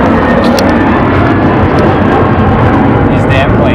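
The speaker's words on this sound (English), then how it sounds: "These damn planes, every like 3, 4, 5 minutes" Loud broadband roar of an airplane passing overhead outdoors, steady and continuous throughout, with a person's voice faintly mixed in.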